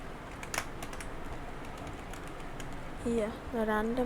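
Python code is typed on a computer keyboard in a steady run of light, quick key clicks, close up, with a voice speaking briefly near the end.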